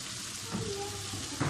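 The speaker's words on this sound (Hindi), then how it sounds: "चिकन को हमने अच्छी तरह भून लिया।" Chicken browning in a pan for aloo chicken gives a steady close sizzle and crackle, with a few slightly louder pops near the end; no one speaks.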